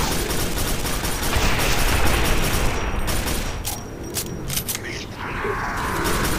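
Rapid bursts of machine-gun fire in a first-person shooter, a scoped machine gun rattling loud and continuous for several seconds before thinning into scattered shots, with someone talking over it.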